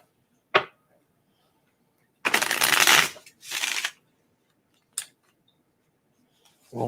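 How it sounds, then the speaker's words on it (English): Cards being shuffled: a quick riffle burst, then two longer riffling flurries and a short snap, close up with quiet pauses between. "When the cards don't shuffle right, I won't lay them out."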